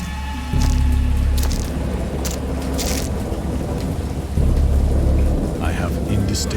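A thunderstorm with rain in the horror video game Dagon: a steady wash of rainfall runs throughout, broken by two deep, loud thunder rumbles near the start and middle, with a few sharper crackles between them.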